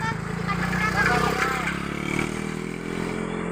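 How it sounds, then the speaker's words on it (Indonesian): A motorcycle engine hums and revs close by, its mid-pitched drone steady for a few seconds while people talk over it. "Tuh, awas ka motor ka."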